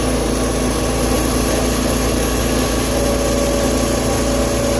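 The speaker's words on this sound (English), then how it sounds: "Sounds like you're driving a semi down the highway right now" A vehicle engine runs steadily with a deep, heavy droning rumble like a semi truck on the highway, loud and close, holding an even tone throughout with no voices.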